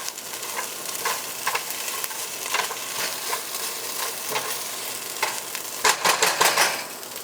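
Onions and green peppers sizzle in a pan, a steady crackling fry punctuated by several sharp stirring scrapes and clatters, close and fairly loud, with no voices.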